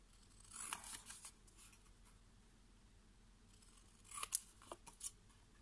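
Scissors cutting small pieces from a paper hexagon template for a box, two quiet bursts of quick snipping separated by a pause, close and faint, without talk.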